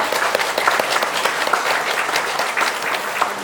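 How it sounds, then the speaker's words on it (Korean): A church congregation claps together, a dense, steady patter of many hands with a few sharper claps, sustained throughout at a moderate level. "우리 청년들한테 한번 박수 좀 한번 줄까요?"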